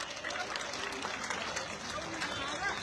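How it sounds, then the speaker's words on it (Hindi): A large crowd of Rajput supporters claps at a mass rally, a dense, steady wash of applause with some voices mixed in, holding evenly for a few seconds. "सब एक बार उनके लिए ताली बजाएंगे।"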